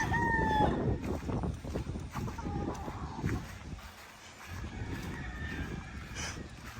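Stag roosters, young gamecocks, crowing and clucking amid a dense, noisy outdoor background, with one crow clear near the start and more calls fainter and farther off.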